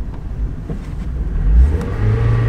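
A car with a manual transmission pulls away as the engine revs up under throttle, a steady close mid-level rumble that swells and stays loud; no talking.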